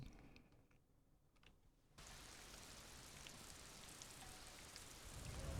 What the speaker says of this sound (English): Love the rain noise.